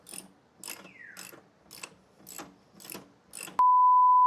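A ratchet wrench turns a bolt on a 2026 CFMOTO 450CL-C motorcycle, giving about seven evenly spaced bursts of rapid clicking. A steady electronic beep follows at the end. No one speaks.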